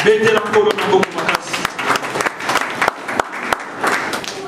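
A church congregation applauding and cheering, dense clapping with voices calling out over it, loud and close, with a tonal voice or music heard briefly at the start.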